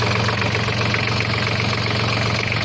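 Tractor engine idling steadily after a repair to its wobbling cooling fan, a loud, even mechanical drone with a constant low hum running unbroken throughout, no voices.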